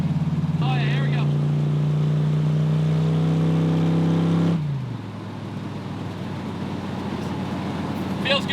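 A Chevrolet El Camino Z28 driving and accelerating downhill, its engine droning steadily with a rising tone up close, then dropping off as the throttle eases; someone talks over it.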